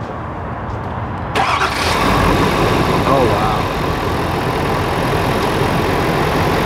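A diesel truck engine, after a CP4 fuel pump failure, cranks and fires after a quiet moment, then settles into a loud, steady rumbling idle, with a brief exclamation from someone nearby.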